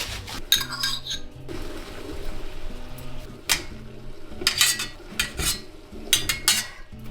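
Dishes, pots and cutlery clink and clatter in irregular bursts during kitchen dishwashing, close up, with running water trickling underneath and no talking.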